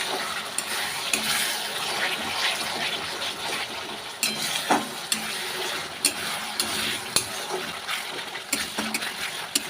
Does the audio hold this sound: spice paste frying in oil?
yes